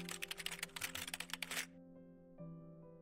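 Rapid keystrokes on a computer keyboard as a folder name is typed, a quick burst of clicks lasting about a second and a half over a steady background tone, then stopping.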